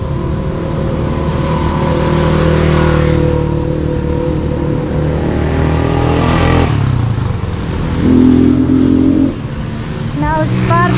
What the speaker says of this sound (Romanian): Mi-au spart urechile motoarele astea, nu mai pot.